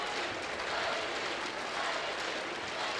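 Fans in a gym at a high school basketball sectional championship between Connersville and New Castle applaud an injured player, giving a steady wash of clapping and crowd noise, moderately loud and continuous, with a commentator talking over it.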